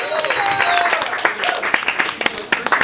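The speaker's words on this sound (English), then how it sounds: "Let's have a big round of applause for Igor, everybody." An audience at a comedy open mic in a bar claps and cheers, loud at first, then thinning into scattered individual claps, with voices mixed in.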